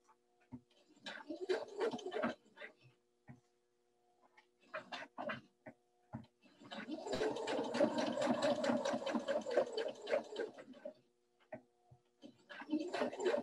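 A sewing machine stitching a quilted table runner runs in several close, steady mechanical bursts of rapid ticking and whirring. The longest burst lasts several seconds, with brief quiet gaps between runs.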